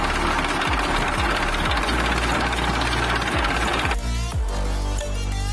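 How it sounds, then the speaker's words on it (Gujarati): A second-hand 35 HP tractor engine idles up close with a loud, steady diesel chug and rhythmic knocking pulses. The tone shifts slightly near the end. "તમે અવાજ પણ સાંભળી શકો છો ટ્રેક્ટરનો"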